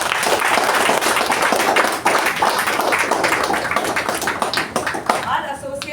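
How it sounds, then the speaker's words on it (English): Sustained audience applause fills an indoor Toastmasters installation ceremony meeting, a dense wash of many hands clapping at steady loudness for several seconds before tapering slightly near the end. "Let's all give her a huge round of applause for that."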